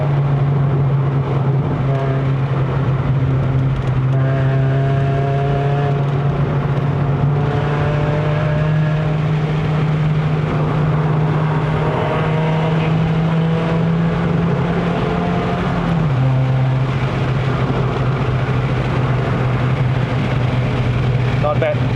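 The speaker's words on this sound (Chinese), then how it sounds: "它的高转越高转声越好" Toyota Vios 1.5J NCP93 with a five-speed manual gearbox climbing a mountain road at high revs, a steady engine drone holding pitch, then dropping sharply near the end as the gear changes; a voice talks over it.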